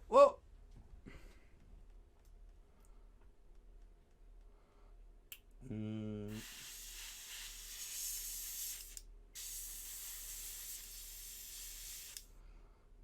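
An airbrush sprays skeletal bone colour paint in two long, steady hissing bursts, preceded by a brief sharp click and a short voice sound.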